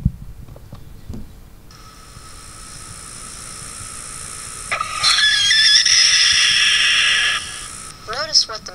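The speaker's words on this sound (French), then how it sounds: "Ça c'est le cri d'alarme du prédateur volant." A rooster gives a loud, harsh alarm call for an aerial predator, a sustained high screeching cry lasting a few seconds that distorts the recording, heard over background noise with a few brief clucks before and after.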